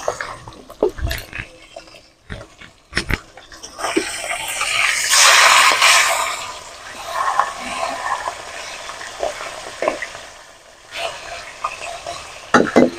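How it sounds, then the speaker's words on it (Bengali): Rohu fish sizzles and crackles steadily in oil in a pan, with sharp clatters and scraping of a utensil now and then; no voices. "মাছটা ভাজা হতে থাক"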